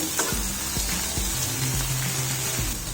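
Spine gourd pieces fry steadily in a pan with a continuous, close sizzle, while a few soft clinks and scrapes of turning mark the flip.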